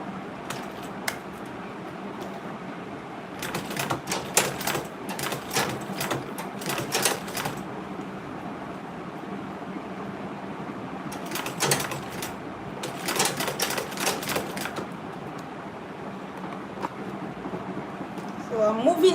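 A sewing machine stitches an Ankara fabric tote bag at an unhurried pace, running in bursts of rapid mechanical chatter separated by pauses with low room noise.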